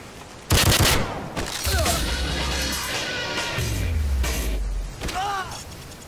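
Pistol gunfire in the Call of Duty video game, a few sharp, loud shots spaced a second or more apart over a busy background of game sound.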